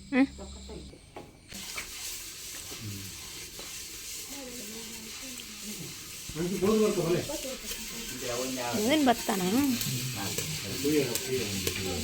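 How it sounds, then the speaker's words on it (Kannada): Paddy grains crackling and stirring in a clay pot over a fire, a steady sizzling rattle with people talking over it. "ಒಲೆಯಲ್ಲಿ ಬೆಂಕಿ ಮಾಡಿ ಒಂದು ಮಣ್ಣಿನ ಪಾತ್ರೆಯನ್ನು ಇಟ್ಟು ಅಲ್ಲಿ ಭತ್ತವನ್ನು ಹಾಕಿದ್ದಾರೆ ಅವರು"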